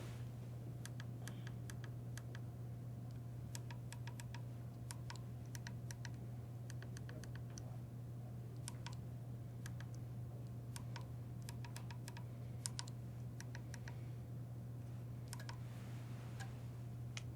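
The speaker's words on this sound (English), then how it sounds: "But the first thing I need to do is enter the password." Someone types a password on a computer keyboard for SEL-710 relay settings, with quiet, scattered clusters of key clicks over a steady low electrical hum.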